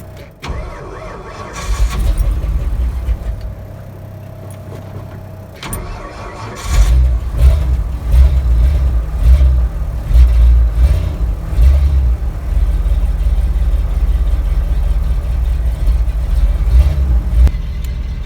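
A 1979 Ford F-350 truck engine cranking slowly in the cold without a choke, the starter grinding for several seconds before the engine catches and settles into a loud, rough steady run close by.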